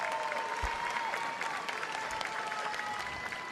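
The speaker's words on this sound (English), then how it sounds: "Please, let's all give a round of applause" Audience applause during a Miss Universe preliminary competition show, a continuous dense roar of clapping across a large venue with a faint tone underneath.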